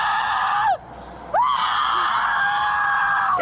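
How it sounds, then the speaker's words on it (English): A beaver screams in two long, loud, shrill wails, separated by a short gap, close and clear with no talk over them. "Oh, screaming little... What is that, a beaver?"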